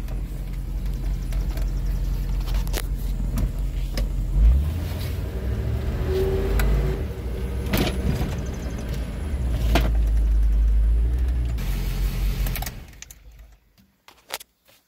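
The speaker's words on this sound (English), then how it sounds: "So nothing's smoking, engine is started." Engine of a Chevy S10 pickup with a swapped-in LS V8 idling outside, a steady low rumble with a few clicks and rattles and a slight surge in the middle, then it cuts off into near silence with a couple of small knocks at the end.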